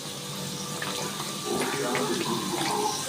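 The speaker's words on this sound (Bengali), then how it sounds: "আমি গ্যাসটা অল্প করে দিয়ে আস্তে আস্তে করে ভেজে নিচ্ছি" Egg-stuffed puri frying in hot oil over a low flame, a steady, close, even sizzle that fills the clip from start to finish.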